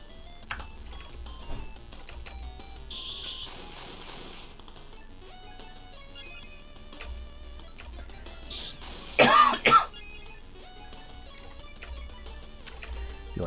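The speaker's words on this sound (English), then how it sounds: "Sorry for all the coughing." A person coughs and clears their throat in short bursts, with one loud, close harsh cough cluster standing out, amid quiet clicks and light keyboard or mouse taps during a video game playthrough.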